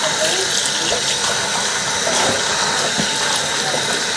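Water runs steadily from a tap over freshly picked, ripe figs being rinsed at a farm, a continuous close splashing gush with no talk.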